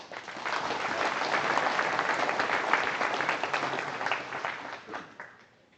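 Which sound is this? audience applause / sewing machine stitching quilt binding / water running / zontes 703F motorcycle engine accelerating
audience applause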